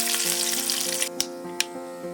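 Curry leaves and dried red chilies are added to mustard seeds crackling in hot oil as a tempering for Kerala-style beetroot pachadi. A close, steady sizzle runs throughout, broken by a couple of sharp pops, with no talk.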